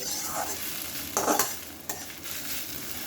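Snake gourd frying in a pan is stirred with a utensil, a soft sizzle broken by a couple of sharper scrapes and clinks partway through, close and fairly quiet, with no talk.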